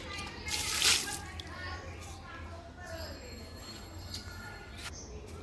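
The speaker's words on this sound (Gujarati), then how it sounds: "હવે આપણે પાણી ભરી દઈશું" Water splashes briefly into a container near the start, followed by quieter trickling, with birds chirping and a faint hum in the background.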